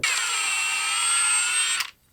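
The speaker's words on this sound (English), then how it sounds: "we'll do the bottom one, which is actually easier because I can get at it with the impact" A power impact wrench removes the bottom pin on a tractor's hydraulics, running as one steady, high, whining burst for nearly two seconds before cutting off abruptly.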